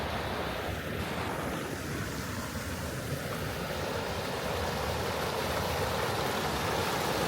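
Constant rushing water roars broadly and evenly throughout, with no pauses, like a nearby mountain waterfall in Austria mixed with some wind buffeting.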